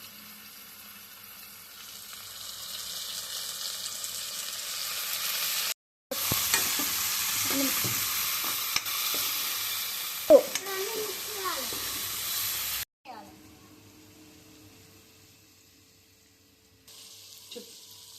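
Homemade noodles being stir-fried with chilli sauce and soy sauce in a pan, a steady sizzling hiss with stirring and scraping, fairly loud and continuous with brief breaks, quieter near the end.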